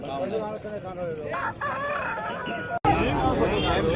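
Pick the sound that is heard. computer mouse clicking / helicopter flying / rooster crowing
rooster crowing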